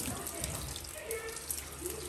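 Water runs into a cooking pot for boiling a pork leg for crispy pata, a steady close trickle and splash with someone talking over it.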